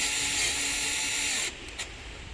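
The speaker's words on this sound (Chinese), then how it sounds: "然后把这两个螺丝打上。" A power drill drives screws into an electric scooter's charging port cover in a loud, close, high whirring burst of about one and a half seconds that cuts off, followed by two brief clicks.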